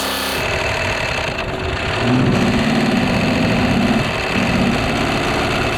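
A BMW or Porsche engine running with its oil drained gives a steady drone that swells louder and rougher after a couple of seconds, straining under heavy load during brake boosting, with no talking.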